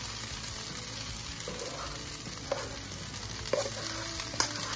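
Rice added to a pan with charred onion for shrimp fried rice, frying with a steady close sizzle and a few light clinks of stirring.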